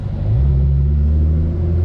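A 2012 Nissan GT-R engine accelerates hard, a loud, close, deep rumble that rises in pitch over about two seconds.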